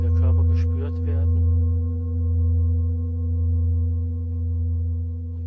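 A Tibetan singing bowl used in a massage gives a low, sustained ringing tone with steady overtones that hums on and gently pulses, after a few faint taps or clinks at the start.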